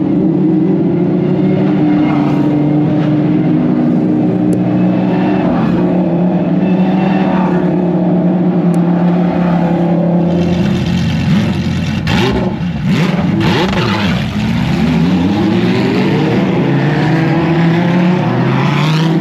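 Race cars lap the Sebring circuit during qualifying: a continuous, loud roar of engines, with one car sweeping past in a rising-then-falling pitch before the drone settles back.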